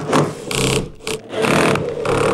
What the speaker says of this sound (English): then you put the rest of the screws in for the runner